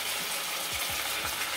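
Hot olive oil sizzling and crackling steadily in a pan while steaming fish, a constant hiss with a few low bumps of something being moved.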